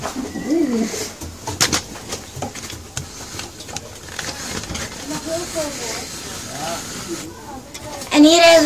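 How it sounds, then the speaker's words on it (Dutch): Domestic pigeons, including curly-feathered frill pigeons, coo repeatedly in a loft at a petting farm, with rolling warbling calls close by and a voice speaking over them. "En dan hebben we bijvoorbeeld een paar soorten, de krulduif, kapsjijner, de simduif, Hollandse meeuwen, helmduif."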